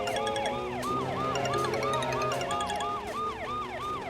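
A police vehicle siren wails loudly and steadily, its rising and falling tone repeating in a fast regular cycle throughout, close and unbroken by speech.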